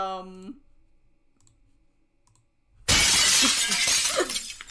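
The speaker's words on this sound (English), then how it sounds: "Did you just break glass again?" A glass window shatters loudly and suddenly in a vampire tabletop game session, filling the sound with bright crashing and tinkling shards that keep going to the end. A short tonal sound and a quiet lull come before it.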